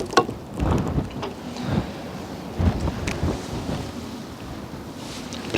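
Gusty autumn wind and rainy weather blow at the second floor of a two-story wooden house in Syktyvkar, heard as uneven, rumbling bursts of wind buffeting close to the listener.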